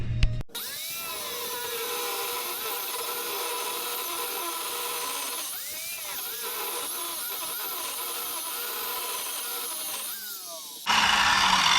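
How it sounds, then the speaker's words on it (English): A grinder with a cutoff wheel cuts through metal on a Jeep, a sustained high-pitched whine that dips and sags in pitch as the blade bites, close and loud, then stops abruptly. "grab my gloves and the cutoff wheel."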